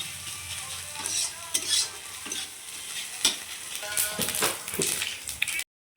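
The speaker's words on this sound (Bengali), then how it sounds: "দেখো এখন ডিমটা ভাজা হচ্ছে।" An egg frying in hot oil in a pan sizzles quietly in a home kitchen, with a spatula stirring and scraping and light clinks of utensils at intervals; the sound cuts off abruptly near the end.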